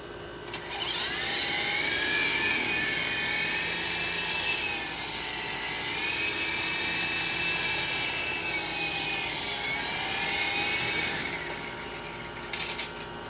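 Extreme S-8G RC helicopter in test flight, its rotor and small motor whirring in a loud, steady high-pitched buzz that rises and dips slightly as it hovers, heard close and alone.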